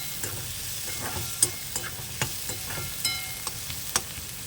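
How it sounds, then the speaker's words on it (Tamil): Onions sizzle in a pan for bitter gourd fry, a steady close frying hiss marked by several sharp clicks and pops of stirring, with no talking. "வெங்காயம் வதங்கிட்டோங்க. வெங்காயம் வதங்கிடுச்சுங்க."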